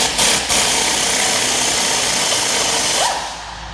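Socket wrench, 3/8 12-point socket, working a bolt out of the center support of a 4L80e transmission: a dense, noisy mechanical rattle that runs close and steady for a few seconds before trailing off.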